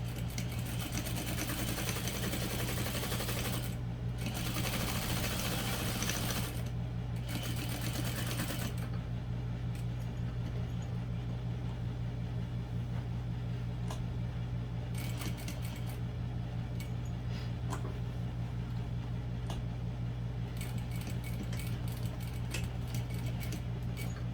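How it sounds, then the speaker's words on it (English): A sewing machine runs steadily while stitching up the short end of a barrel bag, its motor hum continuous and close for most of the stretch, with brief pauses and light clicks around the needle stops. "Sew up the short end and stop again in the corner with my needle down."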